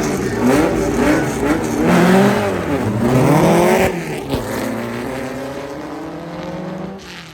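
A blue replica race car, a clone of a 1967 Race Shop A/MC Volkswagen Bug, drives by close and loud, its engine revving and rising in pitch, then fading as it moves away.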